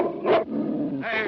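A dog named Buck growls in a rough, throaty burst, pauses briefly, then rumbles again. The sound is close and fairly loud over a thin, older film soundtrack.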